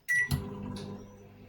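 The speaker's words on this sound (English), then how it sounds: "you're going to put it in the microwave for 30 seconds" A short click and beep, then the steady low hum of a microwave oven running while melting chocolate, close by and continuous.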